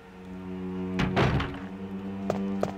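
A door opening in the survival horror game Resident Evil, a heavy thunk with a rattling, scraping burst, followed by two short knocks over a low steady hum.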